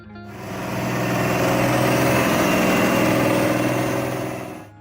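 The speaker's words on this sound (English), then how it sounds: "When you turned the key and that big 401 engine came to life, it wasn't just starting, it was waking up the neighborhood" A Ford 9600 tractor's big 401 turbocharged diesel fires up and settles into a loud, steady running note, heard close and alone, fading out at the end.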